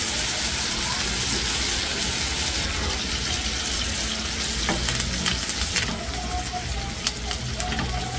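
Butter sizzling in a frying pan as a continuous, steady fry with occasional clinks of a utensil against the pan.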